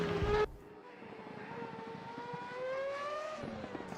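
An FR X-90 race car in a racing game at Silverstone runs down Wellington Straight, its engine a steady, continuous whine that climbs gradually in pitch after a brief louder burst at the start.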